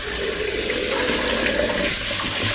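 Cold tap water running over strained wilted spinach in a kitchen, a loud continuous splashing gush that stays steady throughout.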